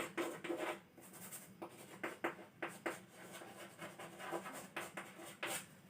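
A pen writing on paper during a geometry lesson, with close scratchy strokes in short irregular bursts and brief pauses, no voice present.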